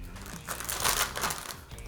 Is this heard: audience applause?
no